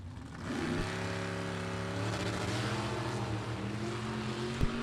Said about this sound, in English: What a nice launch for the Anglia.